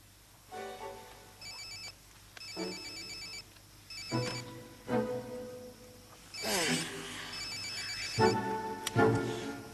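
A telephone rings in repeated bursts in a quiet indoor room, the electronic trills coming at regular intervals with soft movement and a little background talk.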